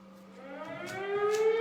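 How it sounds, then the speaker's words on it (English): A big rising siren wails during a workout class, a tonal sweep climbing steadily in pitch and growing louder over a couple of seconds, heard alone without talk. "Where's that lovely big siren?"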